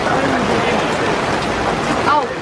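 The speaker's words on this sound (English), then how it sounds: "that is heavy rain coming down" Steady hiss of heavy rain pouring down at the Snetterton race circuit on race day, dense and continuous, with a brief murmur of voices underneath.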